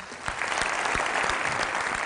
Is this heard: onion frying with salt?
no